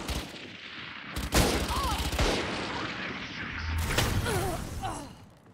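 Two sharp gunshots crack in Valorant, spaced a few seconds apart amid game ambience, with faint voice sounds and chirping effects between them.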